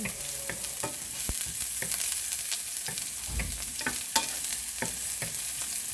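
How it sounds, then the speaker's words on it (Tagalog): Onion sautés in a pan as the first step of fish sarciado, a constant bright sizzle with scattered ticks and scrapes of stirring, close and steady with no talking. "unahin natin yung sibuyas. Gigisa lang natin"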